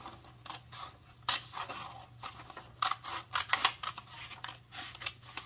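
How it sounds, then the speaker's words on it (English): Scissors snip paper into strips for a children's shape-properties activity, giving a steady run of crisp cuts and rustles, fairly close, under a faint low hum. "cut along these folds until you have 4 strips"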